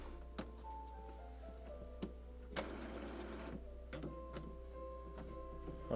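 An Epson XP-400 inkjet printer powering on: quiet mechanical whirring and ticking, with a buzzier grinding burst in the middle and sharp clicks at intervals over a steady low hum.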